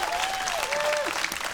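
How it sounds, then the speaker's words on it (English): Brief audience applause at a poetry slam, a dense burst of clapping with a faint whistle-like tone sliding through it, fairly close and continuous. "one round of applause for Natalia"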